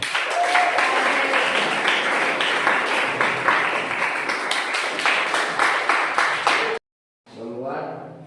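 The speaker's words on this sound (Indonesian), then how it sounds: "beri tepuk tangan untuk kita semua" A class at a high school gathering bursts into lively clapping that runs strongly for several seconds, then cuts out abruptly, followed by a brief voice speaking.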